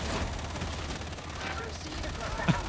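Rapid automatic gunfire in Darktide, a dense, continuous rattle of shots with erratic recoil, loud and close throughout, with a voice partly audible beneath it.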